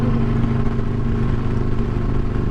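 A motorcycle engine rumbles steadily and loudly on a bridge, its throaty exhaust echoing off the structure in a dense, reverberant drone.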